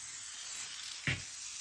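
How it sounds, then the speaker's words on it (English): A spray bottle spritzes water onto quilting fabric at a sewing table, one short hissing puff rising out of a steady low background hiss, close by and with no talk. "I spray generously."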